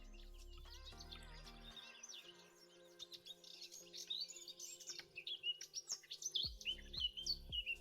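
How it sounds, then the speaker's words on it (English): Bird chirping ambience in Minecraft from the Dynamic Surroundings mod: bright, quick tweets and trills from several birds over a quiet background, growing busier and louder toward the end, with a few low tones underneath. "Got some bird chirping, and that seems a little bit loud."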